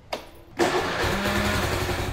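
A Suzuki Skydrive Sport motorcycle is started with a button press: a short starter whir, then the engine catches and settles into a steady idle close by.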